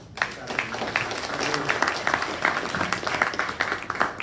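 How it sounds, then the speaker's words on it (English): An audience at a live real estate investing seminar gives a round of applause for Robert and Rebecca, a lively burst of clapping from many people with voices talking through it. "You got to give both of them also a round of applause for what you guys have been able to accomplish."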